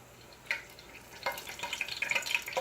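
Fish pieces frying in a hot pan give a soft, close sizzle that starts with a small splash and builds into steady crackling and spitting, with no talking.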